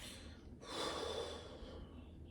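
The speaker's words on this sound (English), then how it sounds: "Now, take a deep breath," A single deep breath drawn in through the nose during a relaxation exercise, a soft airy rush swelling for about a second and then fading, close and quiet with no words.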